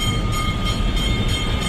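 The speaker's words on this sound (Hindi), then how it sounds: "ये ट्राम की आवाज़" Steady rumbling of a tram rolling along rails between Tollygunge and Ballygunge in Kolkata, a continuous low drone with faint rhythmic clatter, close by and fairly loud.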